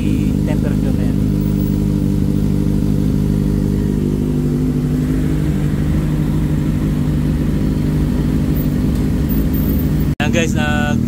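A 2024 Kawasaki ZX6R with an M4 GP exhaust idles high after a cold start, a loud, steady, close engine drone that runs almost without pause while someone talks over it.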